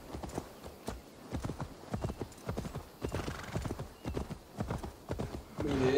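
A horse's hooves clip-clop in a rhythmic, steady gait in Assassin's Creed Valhalla, with hollow, close thuds repeating evenly and a brief whinny near the end.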